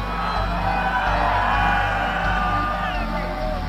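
Children at a fashion show shout and cheer together in a loud, sustained crowd roar that keeps going for the whole stretch.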